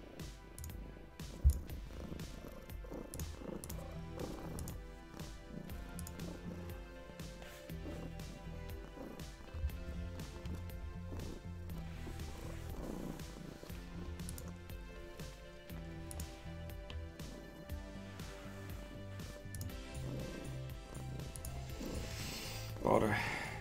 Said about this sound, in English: the rumbling is my cat purring